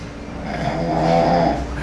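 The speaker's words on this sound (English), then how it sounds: "I hear somebody snoring in here." Close, continuous snoring sounds inside a sheriff's office exhibit at the Buckhorn Saloon & Museum in San Antonio, as one slow, rasping breath that swells and fades.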